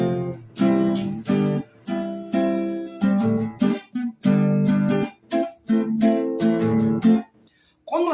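Guitar chords are strummed in a run of short bursts with brief gaps between them, played close by and loud, with no talking over the playing.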